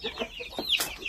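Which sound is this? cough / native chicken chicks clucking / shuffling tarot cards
native chicken chicks clucking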